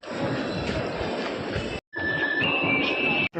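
A Kolkata metro train rumbles steadily at close range, with broadband roar, a brief dropout, then a high metallic wheel squeal rising over the running noise.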